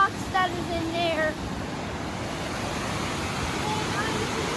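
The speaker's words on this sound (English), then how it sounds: "we are right by the waterfall, and all the white stuff is coming from the rocks that is in there." A waterfall near Elijay, Georgia, pours over rocks with a loud, constant roar and broad wash of noise that fills the whole stretch, and a brief voice is heard faintly at the start.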